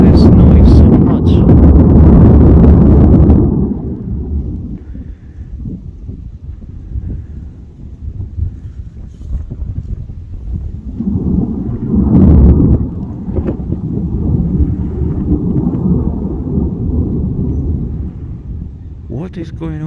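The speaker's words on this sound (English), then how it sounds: "this is a volcano which generates incredible noise" The La Palma volcano erupts and degasses in a deep, rumbling roar that swells and fades in long waves, with wind buffeting the microphone and a voice talking at times.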